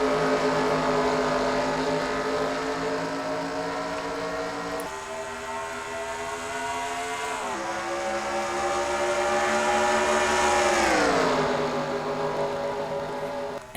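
NASCAR race cars going green at Atlanta roar past in a dense, droning pack, engine pitch rising and dipping as they pass, loud and continuous.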